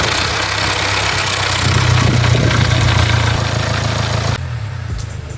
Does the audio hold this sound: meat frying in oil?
no